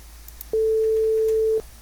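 A single steady electronic buzzer tone from a noisemaker component, apparently pitched at A3, sounds for about a second, clean and constant, then cuts off, leaving quiet background.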